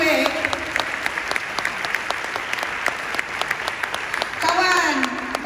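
An audience at an Amway recognition event breaks into loud, sustained clapping, dense and steady throughout, with some voices and cheers mixed in.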